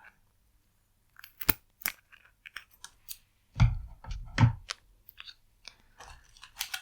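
A package being cut open during a makeup session, a few sharp snipping clicks followed by crunchy crinkling and tearing, close-up and quiet with no voices.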